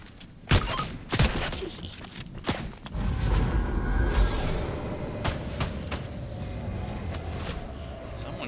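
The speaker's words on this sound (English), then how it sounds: "Someone shooting me from jungle." Rapid bursts of gunfire in the video game Fortnite, with several loud sharp volleys early on, then a denser, steadier rattle of shots and impacts continuing to the end.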